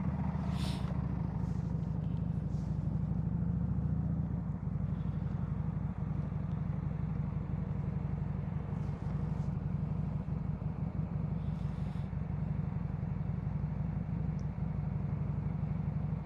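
A Lexmoto Vendetta 250cc motorcycle rides through traffic, its engine humming low and steady throughout, mixed with road rumble and the faint passing noise of other vehicles.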